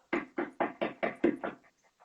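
A second round of knocking on a door: seven firm, regular raps close by, each a hollow thud, followed by a couple of faint trailing taps and then quiet.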